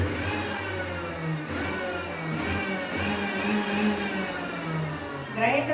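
A kitchen mixer grinder whirs continuously, its motor drone wavering in pitch, then rising into a louder surge just before the end.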